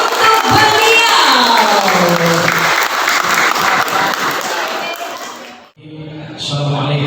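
An audience at a teachers' legal-protection seminar gives a professor loud, sustained applause. It fades briefly near the end before a speaking voice returns.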